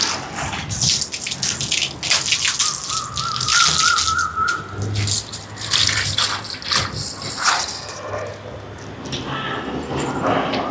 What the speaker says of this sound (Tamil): இப்போ எங்களோட உலைக்கு தேவையான அளவுக்கு தண்ணியை நிறைச்சி எடுப்போம்.